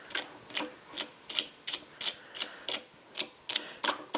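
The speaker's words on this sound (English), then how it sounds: "The next step would be combing out the dubbing." A comb repeatedly raked through dubbing on a fly-tying hook, producing a steady series of about a dozen soft, scratchy strokes, close and faint in a quiet room.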